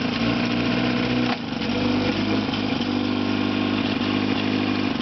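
A 1955 Johnson 5.5 hp outboard motor running on a boat, with a steady close buzzing drone that dips briefly and then carries on evenly.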